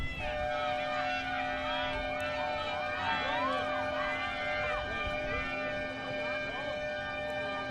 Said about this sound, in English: the lightning siren, that's the sound I believe that you hear